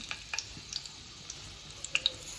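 Dried red chillies frying in hot oil, a soft steady sizzle dotted with faint crackles and a couple of sharper pops near the end, quiet and close with no talking.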